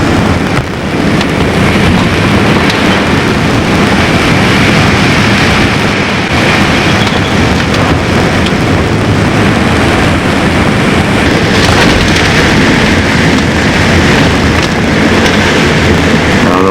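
Loud, relentless hurricane wind roaring with heavy rain, a dense broadband wash that surges and thumps steadily throughout with no voices.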